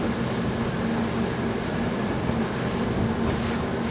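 A Sea Ray SDX 290 outboard with twin V8 250-horsepower engines runs across choppy waves, giving a constant dense rush of water, hull splash and wind over a steady engine hum, with no voices.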